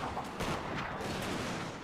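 Massed infantry volleys in the Shogun 2 Total War video game, a dense continuous crackle of many guns firing together with no single distinct shot, steady and fairly loud throughout.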